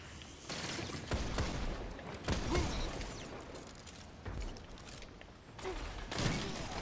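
Fusion rifle fire in the video game Destiny 2 comes as several sharp charged bursts spaced a second or so apart, mid-loud over quieter game ambience.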